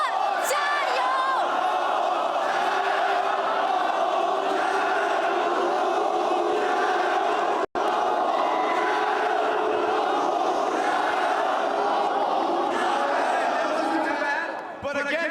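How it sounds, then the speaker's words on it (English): Arena crowd of Top Esports fans at a League of Legends final chanting a team cheer, a loud, sustained roar of many voices filling the hall, briefly cut off midway. "Everybody, on 3, can we get a 滔博加油"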